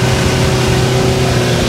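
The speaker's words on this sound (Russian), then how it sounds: "Моторчик урчит, и мы подходим уже ко второй бухте" A small excursion boat's motor rumbles steadily and close on the sea off Novy Svet in Crimea, a continuous low drone with no break.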